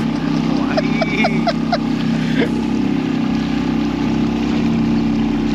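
A boat motor runs steadily at sea off the Worli Sea Link, a loud continuous low drone with water wash, while voices talk faintly over it.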